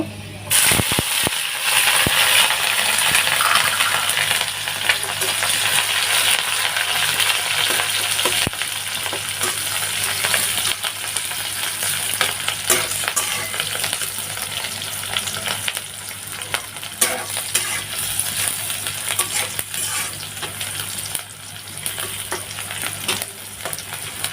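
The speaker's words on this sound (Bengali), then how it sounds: "পেঁয়াজ মরিচ এরকম করে ভেজে নিয়েছি, হালকা বাদামি কালার করে ভেজে নিলাম" Chopped onions and chilies fry in a pan of oil with five-spice seeds, a loud, sustained sizzle with scraping and clinking as they are stirred.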